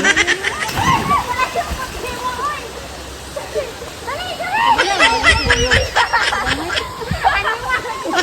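A person jumps into clear water at a swimming spot in Butuan, sending up a splash amid rushing, tumbling water and lively chatter and shouting from people nearby.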